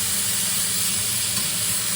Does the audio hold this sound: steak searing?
yes